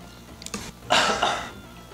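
A single sharp cough from a person partway through a video game speedrun, close and fairly loud, followed by a brief throat-clearing rasp, with faint clinks before it and no speech.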